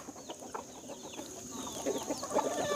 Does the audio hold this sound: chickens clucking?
yes